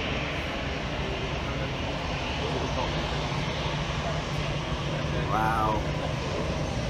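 A fixed-wing aircraft taxis back along the runway at Gibraltar at around 20 knots, its engine a steady broadband rumble under wind noise throughout, with a brief voice exclaiming over it.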